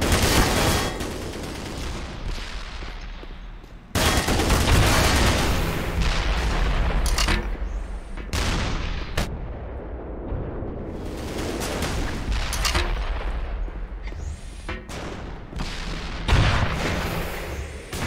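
Missile launcher fire in Black Mesa, with heavy booming blasts and bursts of gunfire recurring loudly through a dense, noisy stretch of game combat, no talking.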